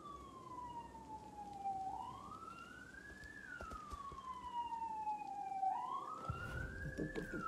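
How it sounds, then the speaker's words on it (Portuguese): A wailing ambulance siren heard at a distance, its pitch sweeping slowly up and down in long cycles over a faint background rumble, with no talking. "a ambulância tá nervosa aqui"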